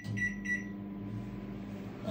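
A steady low microwave hum runs throughout while heating bacon, with a couple of faint high tones near the start.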